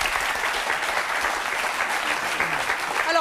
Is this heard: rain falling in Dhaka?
no